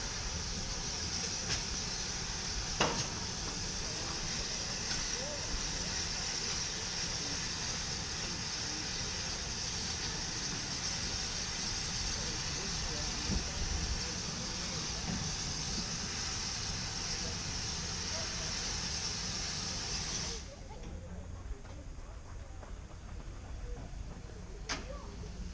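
A train on a heritage railway line at a rural Norfolk station, a steady low rumble and hiss throughout with a sharp clank early on, easing to a quieter tone near the end.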